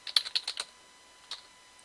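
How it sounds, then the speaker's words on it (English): Quick bursts of typing on a computer keyboard, a run of five or six close, crisp key clicks followed by a pause and one more soft tap, with no talking. "Let me just type it out real quick."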